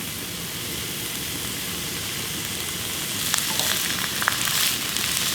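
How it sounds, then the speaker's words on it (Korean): Burdock root stir-fries in perilla oil with a dense, even sizzle, and a few sharper crackles and scrapes come in toward the end. "들기름에 한번 볶아줘."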